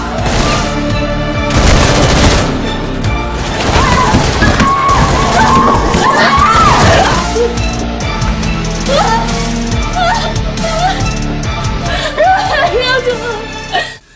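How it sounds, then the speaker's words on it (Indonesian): Gunshots in a film, loud booming bursts and rapid fire mixed with dramatic music and whimpering voices, dense at the start and continuing in scattered hits through the scene. "Dek Nara sempat menembak kaki Yongsu"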